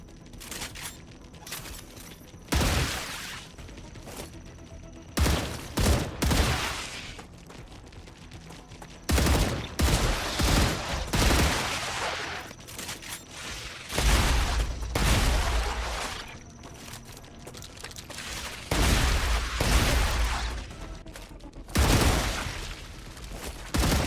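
Gunfire in the video game StarRupture comes in loud repeated bursts and sustained volleys, with brief lulls between them, intense and close throughout, with no voices.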